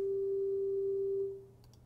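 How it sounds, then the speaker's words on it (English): A synthesized sine wave rings out as one steady, pure tone that holds evenly, then fades over its last half second. "Once again, the sine wave"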